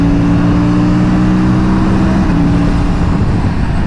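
An Aprilia RS 457 motorcycle ridden on a freeway, its engine droning loud and steady with a sustained tonal hum close to the rider, wrapped in heavy rushing wind noise throughout.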